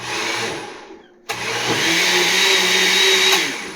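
A blender making hot sauce from Black Truffle Trinidad Scorpion peppers whirs loudly and steadily, pausing briefly before starting up again with a sharp surge and grinding on.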